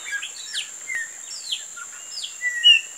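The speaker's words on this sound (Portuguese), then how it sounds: "Olha a beleza do canto dos passarinhos aí." Several songbirds call and chirp at a countryside farm after lunch, bright tweets and short whistled phrases scattered over a steady high insect-like hiss, fairly near and clear with no talking.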